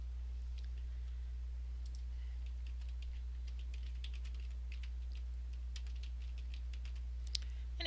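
Faint, irregular clicking of keys as login details are typed on a computer keyboard, a steady string of light taps over a constant low hum with no talking.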